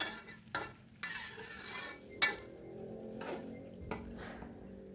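A spoon scrapes and stirs through thick eggplant balado sauce in a pan as it heats toward a boil, several distinct stirring knocks over a faint background sizzle.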